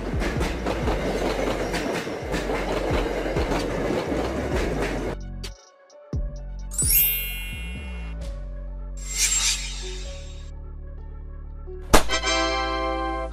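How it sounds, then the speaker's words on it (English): An intercity passenger train rolls along with rhythmic clickety-clack rail clatter, then breaks off into scattered metallic rail noises and short ringing tonal bursts. "Intercity train, a passenger train that operates between cities, providing faster and more comfortable service compared to regional or commuter trains."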